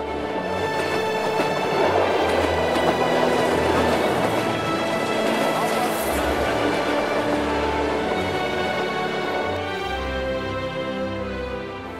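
Steam locomotive heard alongside photographers chasing steam trains, a loud, steady rumbling train sound that stays strong throughout, with rhythmic mechanical texture and a deeper low-end shift toward the end.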